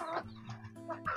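Free-range kampung breeder hens in a farm coop cluck in short, close bursts, a few separate calls with brief pauses between them.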